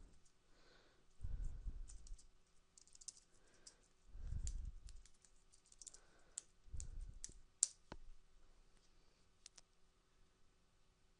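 Typing on a computer keyboard, scattered light key clicks with a few sharper taps, faint and close, interrupted by three low rumbling thuds, with no voices.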